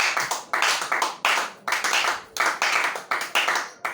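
A church congregation at a worship service claps in a fast, loud, regular rhythm, with the beats falling in clustered bursts that pulse steadily throughout.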